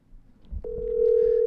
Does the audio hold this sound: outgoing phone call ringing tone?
yes